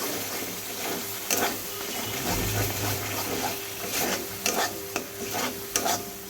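Spice paste mixed with thick sour yogurt is stirred in a pan for a vegetarian eggplant dish. Repeated scraping strokes come at irregular intervals over a soft, steady sizzle, close up and without talk.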